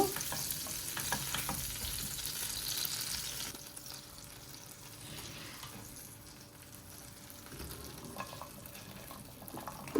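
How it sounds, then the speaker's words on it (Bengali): Vegetables frying in butter in a pan for a chicken steak, with a steady sizzle and occasional stirring scrapes, loud at first and then softer, no voices. "এখানে আমি একটু বাটার নিয়েছি কি, বাটারটা আমি ইউজ করছি। এখানে ভেজিটেবলটারে আমি একটু ভাজি লাইম।"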